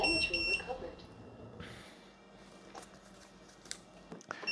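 A homemade waterproof drone gives a quick series of high electronic beeps just after being plugged in, then it goes quiet apart from faint handling noise.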